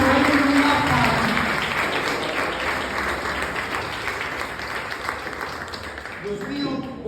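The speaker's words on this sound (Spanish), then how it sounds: "Un aplauso fuerte" Church congregation applauding loudly at a worship service, a dense wash of clapping that stays strong and then gradually thins, with voices speaking over it.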